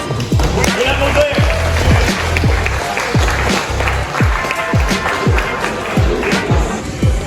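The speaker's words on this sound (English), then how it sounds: "Vous l'applaudissez." Applause at the podium of a friendly kids' climbing competition in a climbing gym, a steady wash of clapping running throughout with voices mixed in.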